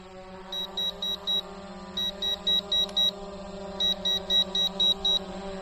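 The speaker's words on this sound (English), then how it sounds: "That dastardly beep." Visuo Zen K1 quadcopter sounding its warning beep: groups of four to six short, evenly spaced electronic beeps repeating over a steady low motor hum, with no talk.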